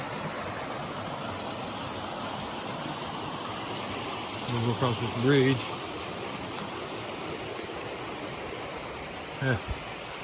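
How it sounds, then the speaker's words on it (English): Small waterfall beside a hiking trail near a rock ledge on the Appalachian Trail, a steady broadband rush of falling water running throughout at moderate distance, with someone speaking briefly over it. "waterfall right there."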